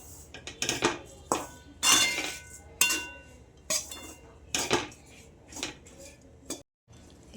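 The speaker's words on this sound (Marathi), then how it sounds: "खसखस टाकल्यानंतर आता आपण परत परतवून घेऊया 5 ते 10 मिनिटं" Poppy seed mixture being stir-roasted in a pan while cooking dinkache ladoo, with repeated scraping and clinking of a metal spatula against the pan in irregular bursts, fairly close, with no talking.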